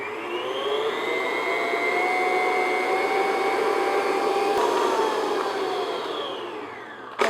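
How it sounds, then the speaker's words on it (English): An electric mixer runs at medium-high speed, beating blondie batter in a home kitchen: a steady, even whirring drone that holds for several seconds before winding down at the end, with no talking. "So I'm going to beat it medium-high speed, 2-3 minutes, just until it's really nice and light."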